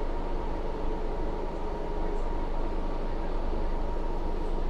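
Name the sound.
passing train on Jammu to Srinagar line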